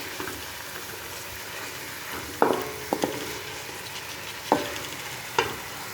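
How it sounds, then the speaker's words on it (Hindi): Chana dal roasting in a pan with spices, a low steady sizzle broken by several sharp scrapes and clinks as a spoon stirs the lentils at irregular intervals. "दाल को अच्छी तरह मिक्स कर लेते हैं। अच्छी तरह इसकी बुनाई कर लेते हैं।"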